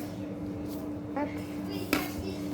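A knife chops a small portion of food for homemade edible slime, a couple of distinct chopping knocks against a board over steady background noise.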